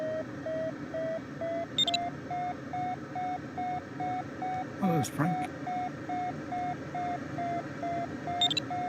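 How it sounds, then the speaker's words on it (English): Brief electronic push-to-talk beeps sound twice during a Condor 3 soaring race, short and bright over a steady, repeating tone, with someone speaking briefly between them. "I like having push-to-talk noises, but I do not like the beep"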